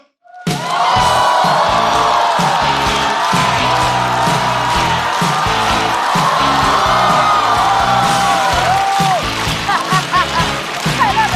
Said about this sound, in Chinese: 掌声欢迎徐志胜